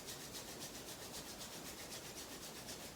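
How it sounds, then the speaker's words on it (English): Palms rubbing together briskly in a steady back-and-forth swish during a yoga session, soft and continuous with no talking. "rub your hands together"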